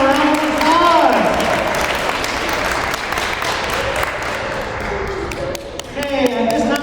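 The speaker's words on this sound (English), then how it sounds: "Give them a round of applause." Applause from the audience at a 2021 school princess pageant as the contestants stand, dense clapping that holds steady for about seven seconds, with voices and crowd murmur mixed in.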